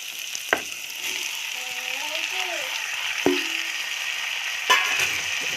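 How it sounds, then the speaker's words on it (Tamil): Onions and added tomato sizzling and frying in a pan for a kada (quail) egg gravy, a steady sizzle with a few sharp clinks of a spoon stirring against the pan. "இந்தளவுக்கு நல்லா வெங்காயம் வதக்கலாம் இப்போது இது கூட நம்ம வந்து தக்காளி ஆட் பண்ணிக்கலாம்"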